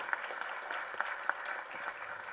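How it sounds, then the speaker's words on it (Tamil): At a film trailer launch event, a hall crowd claps faintly and at a distance, scattered hand claps popping over a soft, thin bed of applause. "கருணா சாருக்கு நல்ல மிகப்பெரிய கரகோஷம் கொடுங்க."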